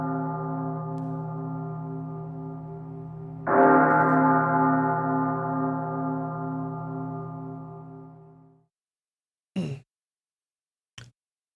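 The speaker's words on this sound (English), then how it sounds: "Bell tolls for the marten" A church bell tolls twice, each deep, ringing stroke fading slowly into silence, followed by a couple of brief faint clicks.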